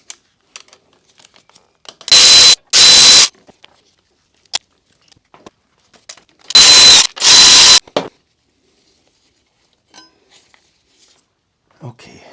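Ratchet with a 10 mm 12-point socket turning the bolts on Brembo brake calipers of a Harley-Davidson Road King Police: two pairs of short, loud buzzing bursts separated by quiet pauses and faint handling clicks.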